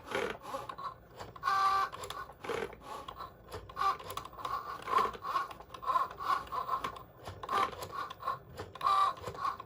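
A Cricut Joy machine cutting gift tags runs with a steady mechanical whir and scraping drag, rising and falling in repeated passes close by, with no talking.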